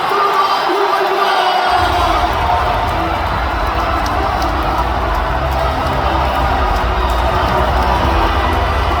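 Large crowd at a political party convention in a convention hall, a loud, continuous roar of applause and cheering that swells in after a brief moment and carries on steadily without a break.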